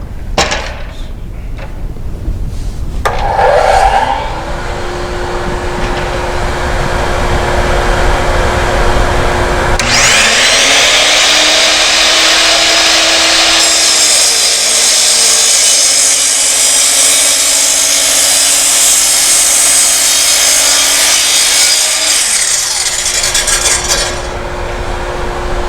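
A miter saw makes a compound mitered and beveled cut through wood. The motor spins up to a loud steady whine, then the blade bites in for a long, harsher cutting roar before spinning down, close and alone.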